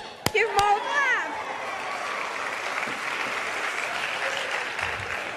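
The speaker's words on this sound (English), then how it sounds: "let's give them all a clap." An audience at an Odyssey Bookshop event claps in a steady, moderately loud wash of applause that follows a brief voice and a couple of sharp knocks at the start.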